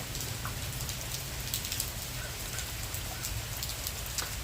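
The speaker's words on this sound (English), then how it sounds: "Oh, the rain came." Heavy rain from a tropical storm falls steadily on surfaces around a yard, a close, even hiss with scattered distinct drops pattering through it.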